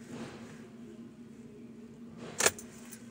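A 2012 Kia Sportage is switched off with its ignition key, and a short bright jingle of keys comes near the end over a faint steady engine-like hum, close by, with no talking.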